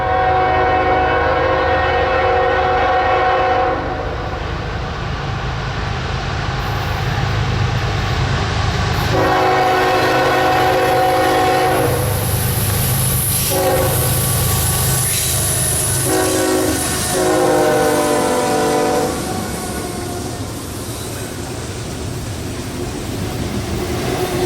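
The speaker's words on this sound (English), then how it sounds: "15 minutes later came train 210 following right behind the 118" A Norfolk & Western heritage unit pulls a freight train past, its horn blaring in long loud blasts over the steady roar and rumble of the locomotive and rolling cars close by.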